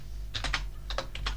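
Keystrokes on a computer keyboard entering a Linux terminal command, two quick bursts of several close, crisp clicks each over a low steady hum.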